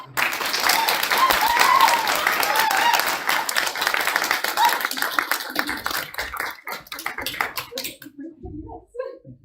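An audience at a spring speakers forum applauds a speaker with dense clapping that starts strong, thins into scattered individual claps and fades out near the end, with some voices mixed in.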